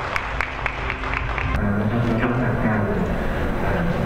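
An audience claps for the vice governor of Chiang Mai taking the stage at a Lanna Expo press event, steady applause of moderate loudness running under an announcer's voice.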